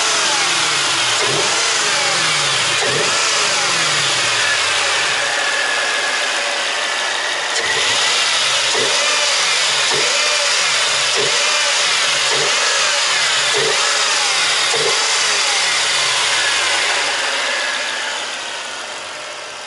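Supercharged V8 of a Mercedes E55 AMG runs steadily near at hand, its loud mechanical drone carrying a repeating rhythmic ticking or pulsing through the whole stretch, with no talk.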